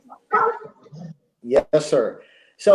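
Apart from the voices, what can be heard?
dog barking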